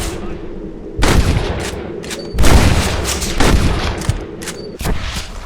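Gunfire in a Red Dead Redemption shootout cracks out in several loud, close shots and short bursts spaced about a second apart, echoing briefly between them.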